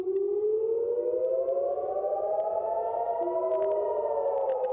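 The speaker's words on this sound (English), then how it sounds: "air raid sirens continued to ring into the morning" An air raid siren in Israel wails steadily and loudly, its tone slowly rising and falling throughout with no pauses and no voices.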